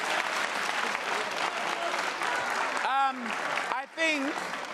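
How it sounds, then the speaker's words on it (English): A school debate audience applauds a group of secondary school students, steady dense clapping filling the room, with a voice briefly speaking over it partway through. "I think a round of applause for the guys, the future leaders from Enedale."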